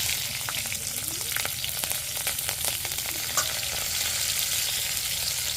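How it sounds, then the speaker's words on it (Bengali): Green chillies, nigella seeds and chopped onion hitting hot oil in a wok, a dense loud sizzle that holds steady throughout, with light crackles and no talk. "কড়াইয়ের তেল গরম হয়ে গেছে। এবার আমরা ফোড়ন দিয়ে দেবো।"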